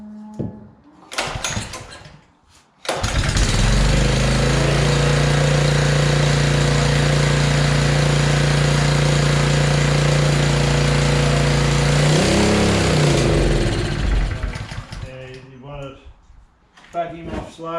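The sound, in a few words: small engine on Jetstream boomspray running on choke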